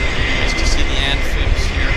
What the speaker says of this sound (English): Got the Saab 340 as well.